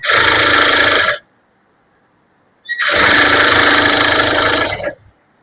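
Sewing machine stitching a lining blouse in two loud, steady bursts of about a second and two seconds, separated by a quiet pause, with no talking.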